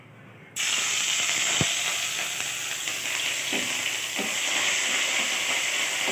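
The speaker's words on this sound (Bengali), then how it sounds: "আদা দিয়ে একটু নেড়ে চেড়ে নিই।" Ginger dropped into hot oil in a kadai with cumin, dried chilli and bay leaf, bursting into a loud, steady close sizzle that holds throughout, with a couple of faint utensil knocks.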